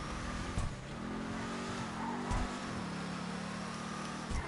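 A Declasse Tahoma Coupe muscle car in GTA V Online revs its engine with a steady droning roar and a few short bumps in pitch, close and sustained, with no talking.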